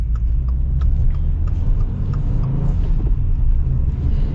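A manual 2023 Subaru WRX Premium rolls over the road, heard from inside as a steady low rumble of engine and tyres with constant road noise and no talking.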